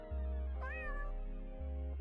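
A cat meow alert sound on a livestream, one clear drawn-out meow rising over a steady electronic hum, close and fairly loud.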